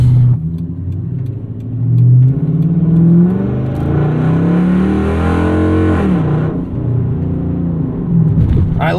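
Dodge Charger Ute with a Hemi V8 accelerates hard from inside the cabin, a loud deep engine roar climbing through the revs, dipping at a shift, then rising again.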